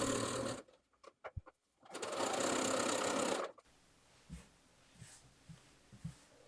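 A sewing machine runs a top-stitching pass along the back yoke seam of a garment in one steady, loud burst of about one and a half seconds, preceded by short start-stop whirs and followed by quiet handling sounds.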